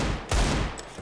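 A single Desert Eagle gunshot in CS:GO, a loud sharp blast that decays quickly, followed by a fainter second report, with no voices.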